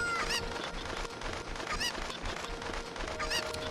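Chicken in The Legend of Zelda: Ocarina of Time giving repeated squawking clucks, three spaced calls over steady game music, fairly faint and without talk.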